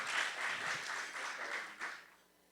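Audience applause for award recipients at an alumni awards ceremony, continuous moderate clapping that fades away at the end.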